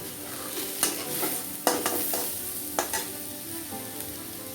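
Mushrooms (chhatu) frying in oil in a pan as a spoon stirs them, a steady close sizzle broken by several sharp scraping clacks of the utensil against the pan.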